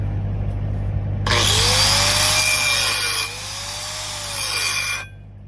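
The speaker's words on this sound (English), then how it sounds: "let me hit that start real quick with the grinder" Angle grinder grinding down a weld start on steel: a sharp, loud, high whine that kicks in abruptly, shifts pitch as the disc bites partway through, then cuts off, over a low steady hum.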